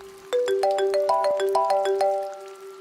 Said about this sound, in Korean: 갑자기 택시 기사의 휴대폰이 요란하게 울렸다